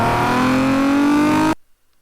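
A video game car engine in GTA 5 roars steadily as it accelerates with a louder edited exhaust sound, its pitch climbing, then cuts off abruptly into silence.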